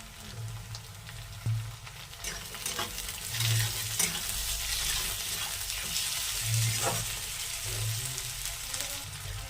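Chopped tomato and green chilli sizzle and fry with eggplant in a pan, a steady crackle with repeated scraping stirs throughout, fairly close and with no talking.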